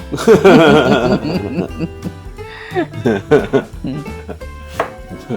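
Thin slices of radish cut with a knife for beef and radish soup, giving rapid, uneven chopping taps against a board under voices and background sound.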